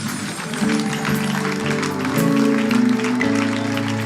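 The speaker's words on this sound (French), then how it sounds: "Acclamez pour le Saint-Esprit." Congregation clapping and cheering in praise during a charismatic church service, a dense, steady wash of applause filling the room over sustained organ or keyboard chords, swelling slightly louder toward the end.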